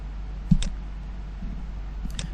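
Two quick mouse clicks, each a short sharp double tick, with a pause between them, made while working in AutoCAD on a computer; close and clear over a low background hum, with no talking.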